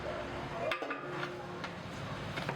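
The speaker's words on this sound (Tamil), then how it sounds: "இப்போ இந்த வெங்காயம் போட்டு 6 கிலோ வெங்காயம் போட்டுக்கிறோம்" Six kilos of onions tumble into a large chicken biryani pot over a wood fire, with rustling, clinking and scraping. The sounds are fairly quiet, with a few short knocks and a faint sizzle underneath.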